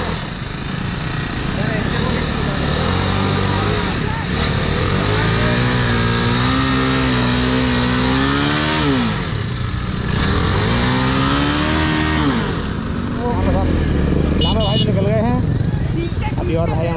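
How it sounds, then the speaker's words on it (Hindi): A motorcycle stuck on a rough track near Panikot, Faridabad, Haryana, has its engine revved up and down in rising and falling surges while it is pushed free, with voices close by throughout. "बाइक फंस गई है"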